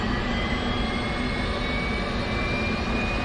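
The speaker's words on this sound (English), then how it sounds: "let me go ahead and fire up the APU" Auxiliary power unit spooling up on a jet in the DCS flight simulator, a loud steady turbine whine and low rumble with slowly rising tones, no voices.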